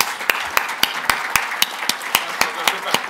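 Audience at a colloquium applauds the organising committee with steady, evenly spaced claps that ring out sharply over a low murmur of background room noise.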